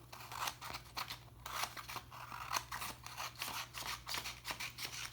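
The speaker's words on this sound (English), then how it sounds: "take the scissor and cut off the rectangle" Scissors snip through a sheet of paper while cutting a rectangle off it for a cootie catcher: a quiet, steady series of crisp, rapid cuts close by, with no voices.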